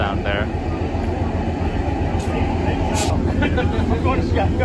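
An Amtrak train rumbles steadily at Portage station in Wisconsin, a low continuous roar with faint higher clanks and squeals over the top.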